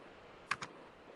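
Two sharp clicks from a computer keyboard, close together, as values are typed in, standing out against a quiet background hiss.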